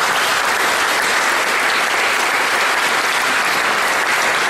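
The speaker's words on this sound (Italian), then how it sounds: "facciamo un applauso a tutti voi" At an award ceremony in Alessandria, a large audience claps in a thick, continuous roar of applause, loud and even from start to finish with no pauses or speech.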